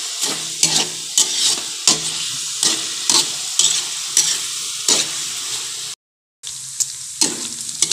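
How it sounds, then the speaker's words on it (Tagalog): Breadfruit stew simmering in a pan and stirred again and again, a steady sizzle broken by repeated scraping strokes, with one brief silent gap. "Palagi lang natin haluin mga kasama."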